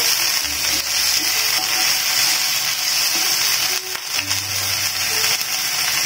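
Small paneer cubes fry in a pan with a steady, dense sizzle running the whole time, broken briefly by a couple of low clattering stirs or knocks.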